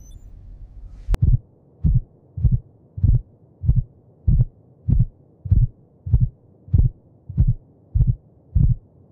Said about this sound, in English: Heartbeat, not geology.